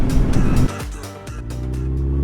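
Car engine revving hard, then dropping sharply during a power shift before building again, a loud close roar with a brief dip between gears.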